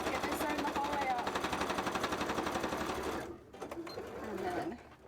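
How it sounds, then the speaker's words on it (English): A sewing machine runs fast and steady while stitching tail frills, then stops abruptly, followed by a few lighter clicks and handling noises. "Let's get this sewn the whole way up."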